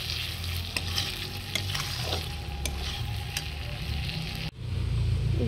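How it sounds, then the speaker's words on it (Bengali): Fried potatoes being stirred into oily spice masala in a pan for Bengali fish curry, with steady close sizzling and frying and a few scraping stirs throughout, then a brief pause before the sizzle returns louder. "এর মধ্যে ভেজে রাখা আলুগুলো দিয়ে দেব। এতে ভালোভাবে কষিয়ে নেব।"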